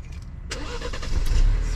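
A car engine starts with a sudden turnover and then settles into a low, steady rumble, close by and brief.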